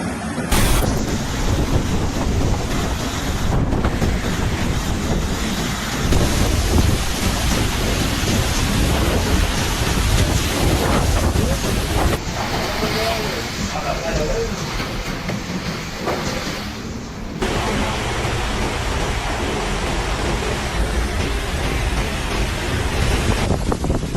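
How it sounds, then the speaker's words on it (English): A ferocious thunderstorm with strong wind, rolling thunder and heavy rain pounding surfaces, loud and continuous throughout with no talking. "Captured on camera, the ferocious storm unleashed its fury, tearing apart everything in its path."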